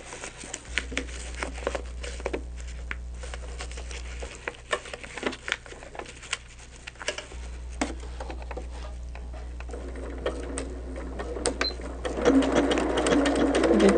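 A sewing machine runs straight-line stitches through small quilt pieces in a steady, rapid mechanical patter, with brief pauses and a louder burst near the end.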